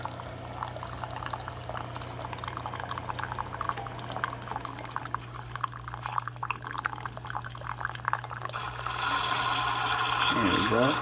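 A Keurig K-Classic single-serve coffee maker gurgles and hisses as coffee streams into a cup, with a steady low hum underneath and a louder sputtering burst near the end.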